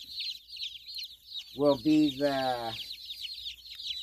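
Turken Transylvanian naked neck chicks peep in a continuous, fairly close chorus of high chirps, while a person speaks briefly over them midway.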